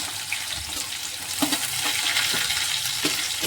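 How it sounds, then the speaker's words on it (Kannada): Dense, steady sizzle of onions frying in hot oil with curry leaves for a potato curry, close and loud with occasional stirring scrapes, no voices. "ಇವಾಗ ಈರುಳ್ಳಿ ಹಾಕೊಂಡು ಸ್ವಲ್ಪ ಈರುಳ್ಳಿ ಕಲರ್ ಚೇಂಜ್ ಆಗತ್ತಾನ ಇದನ್ನು ನಾನು ಫ್ರೈ ಮಾಡ್ಕೊತೀನಿ"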